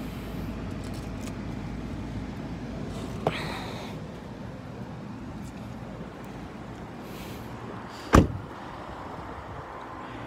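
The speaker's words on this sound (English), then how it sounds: "And you does have remote power doors." The remote power sliding door of a Dodge Caravan operates. A soft click comes early, then a quiet hum follows, and a solid thud of the door shutting lands near the end, against low background noise.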